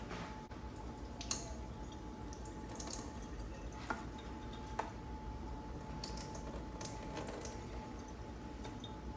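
Water straining off cooked elderberries in a kitchen, a soft continuous trickle and patter with a few scattered louder drips, close and fairly quiet throughout.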